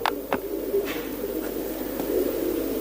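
Pigeons of the palle-wali breed coo nearby in a steady, low, continuous murmur, with a few sharp clicks near the start.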